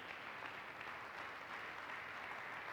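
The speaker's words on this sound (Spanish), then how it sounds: "Gloria a Dios, démosle palmas al Señor" A church congregation clapping for the Lord during a Spanish-language sermon, a dense, steady wash of applause from many hands, fairly distant.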